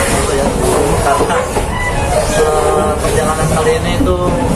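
The Wijayakusuma passenger train pulls into Surabaya Gubeng station with a loud, steady rumble of rolling carriages, wheel clatter and hiss, heard from on board as faint voices mix into the noise.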